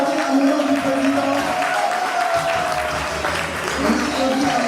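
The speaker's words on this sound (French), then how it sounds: "On applaudit à l'honneur du président." At a retirement celebration in Côte d'Ivoire, a gathered crowd applauds in honour of the president, steady clapping mixed with voices and background talk throughout.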